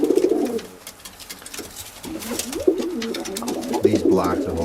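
Black Oriental Roller pigeons coo in a loft, throaty rolling calls repeating close by with someone talking over them.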